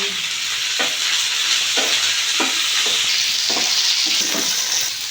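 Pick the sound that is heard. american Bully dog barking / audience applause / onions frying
onions frying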